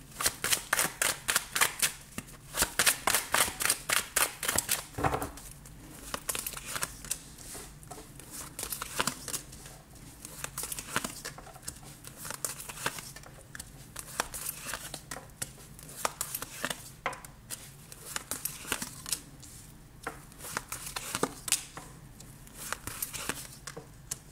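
Oracle cards are shuffled for a tarot-style reading, a brisk riffle of dense crackling flicks at first, followed by long stretches of lighter irregular card slides and taps, close up with no voice over them.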